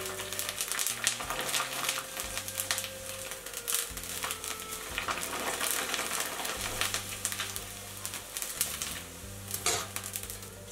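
Cut glass noodles frying in hot oil as they are stirred in a pot or wok, a steady sizzle broken by scraping and clinking of the utensil against the pan, close and moderately quiet, with no talk.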